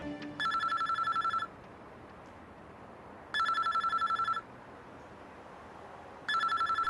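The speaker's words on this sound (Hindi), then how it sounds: "फोन बज रहा है तुम्हारा।" A telephone rings indoors in three evenly spaced bursts of repeated electronic trills, each lasting about a second, separated by short quiet pauses, moderately soft and without voices.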